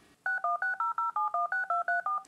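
A phone keypad dials a quick run of eleven touch-tone beeps, each short and evenly spaced, clear and close with nothing else around them.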